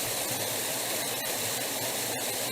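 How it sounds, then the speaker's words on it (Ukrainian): A mountain forest stream rushes steadily, a dense, continuous wash of flowing water with no letup, close and loud, no voices over it. "Водичка"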